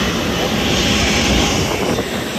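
Airliner engine running steadily at the gate while passengers board on a rainy day in Portugal, a loud continuous broadband roar filling the whole stretch close by.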